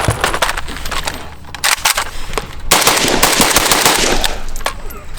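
Rapid automatic gunfire from a PSA AK-103 rifle rattles loudly and close, sharp repeated shots running in dense strings with brief breaks.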